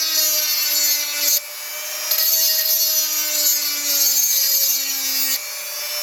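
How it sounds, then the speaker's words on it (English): A Dremel with a tiny grinding stone works a small area of a window switch part from a 1970–1971 Lincoln Continental Mark III, a loud, steady high-pitched whine with brief dips in load as the stone presses and lifts. "get a Dremel with a tiny little stone, and all you're going to do is just Dremel that little area there"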